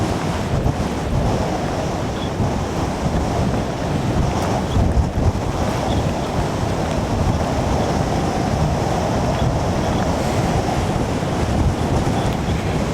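Strong wind roaring across a rocky mountain top in Triglav National Park, Slovenia, a loud continuous buffeting rush battering the microphone with gusts throughout.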